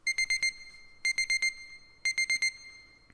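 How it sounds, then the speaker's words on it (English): Electronic buzzer signalling that food is ready, sounding three bursts of four rapid, shrill beeps each, evenly spaced about a second apart, clear and alone. "That's the buzzer. Your food's ready."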